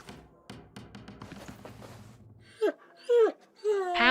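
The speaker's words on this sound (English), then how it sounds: "It looks up when you approach and whines a low note, tail wagging slightly." A black hound in the video game Pillars of Eternity whines in a few short rising and falling cries near the end, after a stretch of soft game ambience and footsteps.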